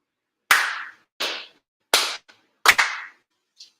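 Five sharp ceremonial hand claps at a Shinto-style grand ceremony, spaced about a second apart with one doubled clap, each ringing briefly in a reverberant hall, followed by a faint short tap.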